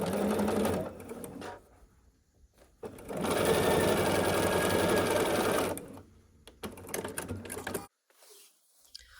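A sewing machine stitches a quilt block seam in two loud, steady bursts separated by pauses, followed by a few short stutters of the needle and handling noise.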